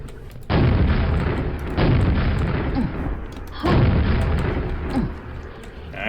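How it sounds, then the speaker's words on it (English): Three heavy rocket launcher blasts in Quake's Arcane Dimensions mod, each a loud booming burst with a rumbling tail, spaced about one and a half seconds apart over a steady game backdrop. "Rocket launcher."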